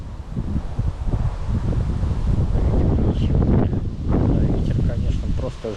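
Strong wind batters the microphone beside a small river while fishing, a loud continuous roaring buffet with rustling throughout, and a person talks over it.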